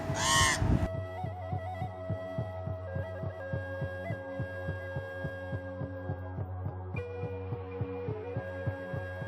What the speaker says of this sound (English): They keep cawing like they want us to throw them some food.